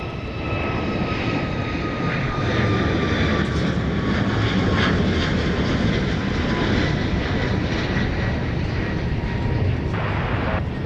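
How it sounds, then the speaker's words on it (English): A Southwest Boeing 737 MAX 8 bound for Atlanta takes off from Dallas Love Field with a steady, loud, broad engine roar that lasts throughout. A faint whine drifts downward as the jet climbs away. No voices. "it looks like they've given the green light to this plane to take off"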